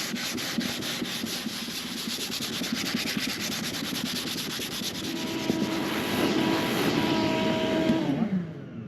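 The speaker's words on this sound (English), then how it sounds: "I switched over to another radius sanding beam," A 220-grit radius sanding beam rubs back and forth along a guitar fingerboard in steady, close strokes, the rasping continuous and slightly louder toward the end.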